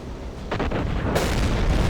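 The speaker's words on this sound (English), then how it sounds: "Okay, they now have explosions on board, secondary explosions." Deep booming blasts burst out over a constant low rumble in the Silent Hunter 3 video game, as secondary explosions hit a ship, with a sharp loud explosion near the middle ringing out into noise.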